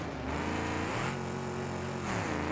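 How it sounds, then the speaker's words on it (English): Race cars in the BeamNG driving game, K-Series machines on the Imola circuit, drone steadily close behind, their engine notes layered and shifting in pitch as they follow, with no talking. "I hear other cars right behind me."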